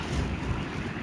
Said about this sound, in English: here comes another good gust of wind